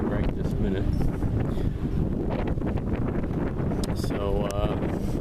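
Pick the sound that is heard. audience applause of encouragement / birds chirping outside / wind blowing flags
wind blowing flags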